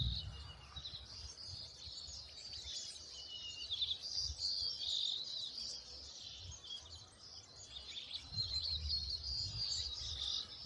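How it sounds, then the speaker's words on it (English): Many birds chirp and twitter in trees along a desert creek trail near Palm Springs, a dense, faint chorus of high tweets continuing throughout, with soft low rustling underneath and no talking. "But there's tons of birds in these trees right here."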